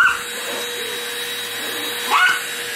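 Household vacuum cleaner running steadily indoors, a constant motor drone throughout with a small dog whimpering and yipping briefly near the start and again toward the end.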